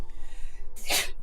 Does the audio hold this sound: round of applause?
no